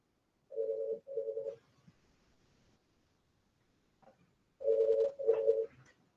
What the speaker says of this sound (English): One second, my phone's ringing.